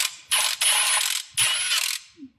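Impact gun driving sockets to remove tight automatic gearbox bolts on a Lexus IS300, two loud rattling bursts of hammering with a short pause between, followed by a faint low tail.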